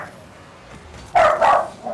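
A dog gives a short burst of two or three loud, close barks after a quiet stretch of faint background noise, then a softer yip at the end.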